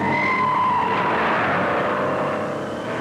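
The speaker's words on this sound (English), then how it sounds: "Running close together, they drift through corners to measure chassis control" 1957 NASCAR convertible race cars drift through corners on a Daytona beach course, tires skidding and engines roaring loud and close in one continuous rush that eases slightly toward the end.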